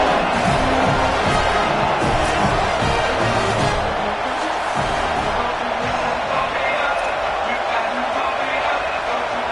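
A large home crowd roars through a college football stadium, the Coliseum, as the Trojans' kickoff unit lines up. The dense, continuous cheering holds steady, loud and broad, with no pauses.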